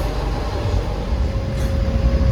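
Steady rumble of an AC double-decker train rolling out on the Chennai to Bangalore route, heard from inside the lower deck as a continuous low drone with a faint constant hum, no talking.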